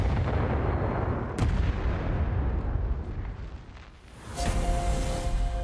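A coastal fortress cannon fires on an island with a heavy, loud boom and a long rumbling roll, then a brief sharper crack partway through, with no voices heard.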